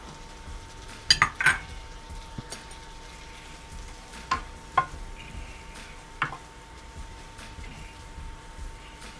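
Carrots dropped into a pan for a sweet and sour chicken stir fry, with a few sharp utensil clinks and scrapes against the pan over a faint, low sizzle, then a quieter stretch.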